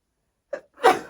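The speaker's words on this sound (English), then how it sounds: "I'm going to sneeze" A single close sneeze: a short sharp intake followed by a loud, breathy burst, with no talking.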